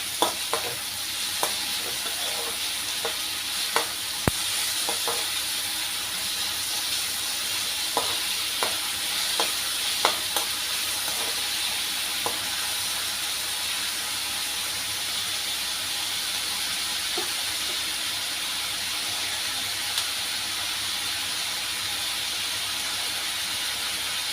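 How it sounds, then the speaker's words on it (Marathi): Chopped tomato salted in a hot pan sizzles and hisses steadily, with occasional sharp clicks and scrapes of stirring over the constant frying noise, no voices. "आपण चिरला एक आपला टोमॅटो तो हे टोमॅटो इतकीच मीठ घालायचे त्यामुळे तो लवकर शिजतो"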